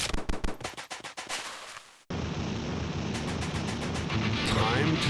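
Rapid spread shot gunfire in the video game Hard Corps Uprising, a fast burst of repeated shots followed by dense, continuous blasting and explosions with game music.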